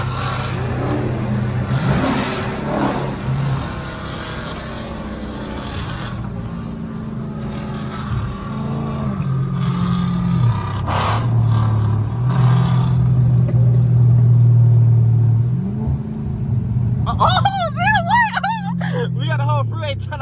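A white 2020 Dodge Scat Pack with the 392 engine and an older SRT8 rumble in deep, loud V8 tones at a freeway gathering, swelling and surging between revs while people talk over the engines.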